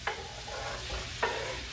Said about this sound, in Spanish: Lo meneamos. Siempre es bueno menearlo para que se vayan compenetrando.